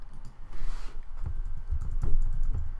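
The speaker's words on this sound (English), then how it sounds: "So we're going to type in our preferred domain here" Keys clatter on a computer keyboard in quick irregular bursts, close and moderately loud, with short pauses between strokes and no speech.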